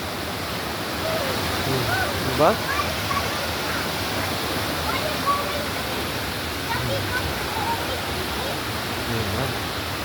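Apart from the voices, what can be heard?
rushing water of waterfall at Three Falls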